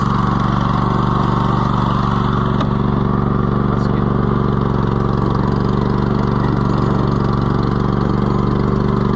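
A Cub Cadet LT1050 riding lawn tractor engine idles steadily and loudly up close, a constant low rumble with a faint tick or two and no speech.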